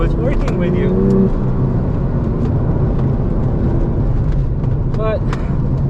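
A Porsche 996 GT2 being driven, its engine note droning steadily throughout, with a few brief higher whines and tonal sweeps rising over the road noise.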